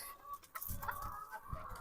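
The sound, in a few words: chickens clucking on a farm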